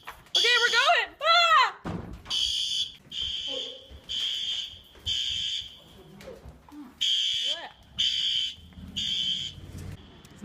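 A home fire alarm sounds in repeated loud electronic beeps, about a second each with short gaps, while people shout and talk excitedly over it.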